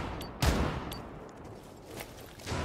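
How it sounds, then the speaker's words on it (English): Burst-fire machine gun shooting in Rainbow Six Siege, a few short sharp bursts of gunfire spaced out over a soft background, moderately loud with no talk. "this gun actually has burst fire"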